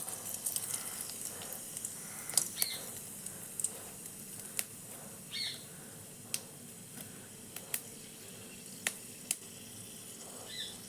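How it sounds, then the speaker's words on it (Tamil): Mustard seeds, chana dal and cumin sizzling in hot oil: a steady close hiss of frying with frequent sharp pops and crackles as the seeds burst, no voices. "நல்லா ஆயில் சூடாகிட்டு இருக்குது கடுகு கடலைப்பருப்பு ஜீரகம் தாளிச்சிட்டோம்"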